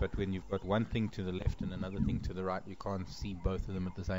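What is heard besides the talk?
None of the usual background noises is heard.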